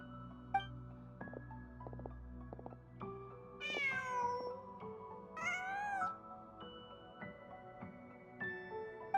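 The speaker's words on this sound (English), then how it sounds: "Just a cat." A cat in the video game Genshin Impact meows a few times, with clear rising and falling cries over quiet game background tones.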